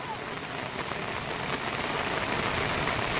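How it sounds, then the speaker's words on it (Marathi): Heavy monsoon rain pours steadily onto a flooded road, a dense continuous hiss of drops hitting water and surfaces close by, with no speech over it. "कारण पाऊस सकाळपासून मुसळधार चालू आहे"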